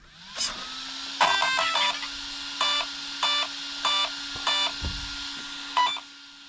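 An Arrma Outcast V2 RC car gives off a series of electronic beeps after its battery is plugged in, about seven short bursts spaced roughly half a second apart over a steady low hum, with no talking.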